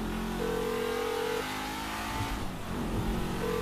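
A race car engine in a video game revs with a steady, sustained drone of stacked harmonic tones whose pitch shifts partway through. It runs loud and continuous for the whole stretch, and no one talks over it.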